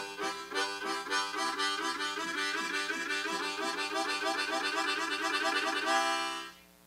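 A harmonica chugs a fast rhythm by breathing out and in, with rapid continuous chord pulses speeding along before stopping abruptly, close and loud with no voices.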